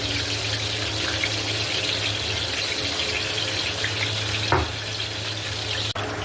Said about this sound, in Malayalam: അതൊന്ന് ഫ്രൈ ആയിട്ടൊന്ന് വെള്ളം ഒഴിക്കാം.